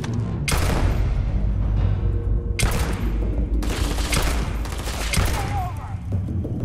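Rapid bursts of heavy gunfire in the Starfield video game, played on very hard difficulty, arriving as several dense volleys with brief gaps, loud and close and filling the whole stretch.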